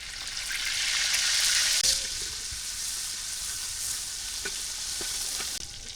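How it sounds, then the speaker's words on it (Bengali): Chopped onion frying in oil in a kadai gives a strong, close sizzle that swells loudly at first, then settles into a steady hiss with a few soft utensil clicks. "পেঁয়াজ কুচি দিয়ে দিলাম"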